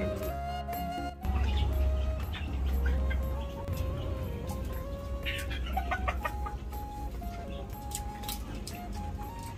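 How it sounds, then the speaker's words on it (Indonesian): Chickens on a maggot-fed farm in Tabanan, Bali cluck intermittently in short calls over a constant low background rumble, moderately close, with occasional louder squawks. "Pak Krebekel, ini kan ayam yang dipelihara di sini mempunyai ciri khas tersendiri dengan dikasih pakan maggot ya."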